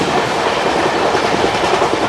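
The Tamralipta Express running from Howrah to Digha, a loud close rumble of rolling wheels and rattling carriages, steady throughout with no voices.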